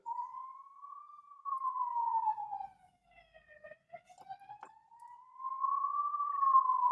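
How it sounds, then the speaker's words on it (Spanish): An ambulance siren wails outside, a single smoothly rising and falling tone that fades briefly in the middle and returns, heard faintly from a distance indoors. "¿O que se escucha la ambulancia?"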